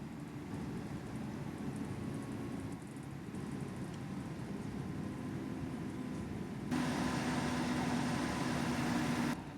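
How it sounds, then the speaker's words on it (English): A truck engine idles behind a bus in the OMSI 2 driving simulator, a steady low rumbling drone that holds throughout and swells louder near the end. "Can't even hear the bus, you can just hear the truck engine behind."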